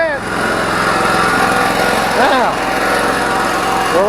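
A new small engine fitted to an old garden tiller runs steadily at close range, a loud continuous buzzing drone with slight rises in pitch.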